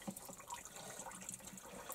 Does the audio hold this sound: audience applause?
no